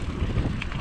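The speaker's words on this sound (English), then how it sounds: "There's that lake wind." Lake wind at Canyon Lake buffets the microphone in a steady, loud rumbling roar with no break.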